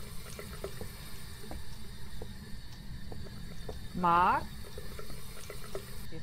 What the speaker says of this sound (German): Hier ist irgendwo ein Wasserhahn an.